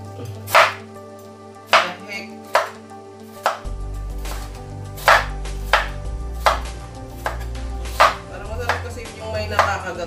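Knife slicing vegetables such as okra on a cutting board for Bicolano ginataang halohalong gulay, a dozen or so sharp, evenly spaced chops close by, over a low background hum.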